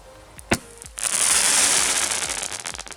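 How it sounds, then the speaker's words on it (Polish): A stage firework mine fired by a Kingdom 4-channel radio firing system goes off as one sharp report, then a loud, bright hiss of sparks that lasts a couple of seconds and fades. "Ja myślałem, że to jakaś fontanna będzie, a to taki wystrzał."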